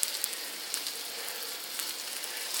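A hamburger patty fries in a pan, giving off a steady close hiss of sizzling fat with scattered small pops and crackles, continuous and fairly quiet with no talking.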